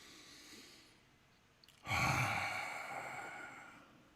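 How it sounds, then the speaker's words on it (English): A single deep breath, a sharp inhale followed by a long, close, breathy exhale that fades out in a quiet room. "So I'm going to take my deep breath."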